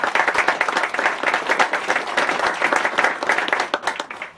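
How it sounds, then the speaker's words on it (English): An audience claps for a color guard at a ceremony; a brief, close burst of steady applause fills the space with no talking over it. "How about a round of applause for them?"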